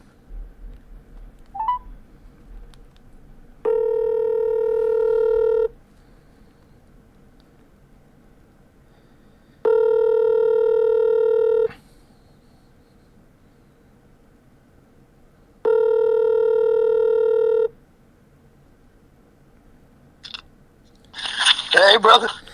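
A phone line rings three times in long steady electronic tones separated by pauses, followed by a brief click and noise as the call to a podcast guest connects.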